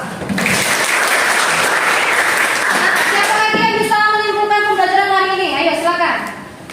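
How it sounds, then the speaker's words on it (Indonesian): A classroom audience claps in steady applause for several seconds, and a voice speaks over it as the clapping fades out. "Bisa berikan aplaus."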